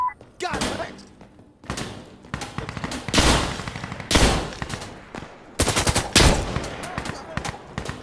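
Bursts of automatic rifle fire and single gunshots in the shooter game Insurgency Sandstorm, loud and close in several separate volleys with pauses between, while players talk over the action.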